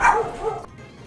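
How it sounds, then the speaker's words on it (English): A dog barks in a short burst of a couple of close, loud yaps that fade off quickly into quiet room tone. "If you guys vote that you like hearing barking sounds"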